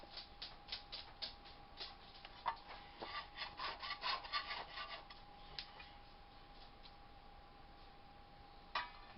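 A dough scraper rubs and scrapes against bread dough and the work surface while the dough is rolled, giving a series of soft, close scraping strokes over a low steady hum.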